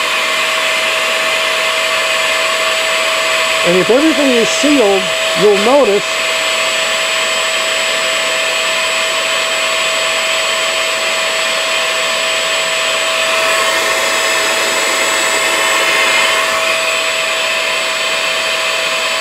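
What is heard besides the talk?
vacuum pump running to transfer mash into still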